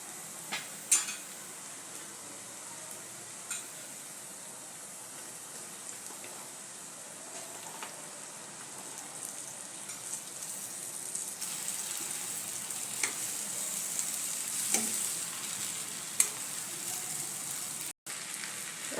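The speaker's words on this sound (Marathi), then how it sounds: "आता यामध्ये भेंडी कापलेली भेंडी घालूया" Sliced okra (bhendi) frying in a pan with turmeric, chili powder and garam masala, a steady soft sizzle with occasional scraping stirs and light clicks throughout, no voices.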